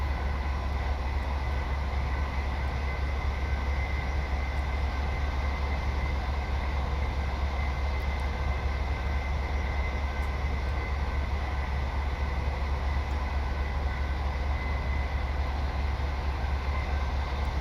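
Class 185 diesel multiple unit running between Leeds and Liverpool across the Pennines in Train Simulator Classic, a steady low engine drone and rumble of the train under way, continuous and even throughout.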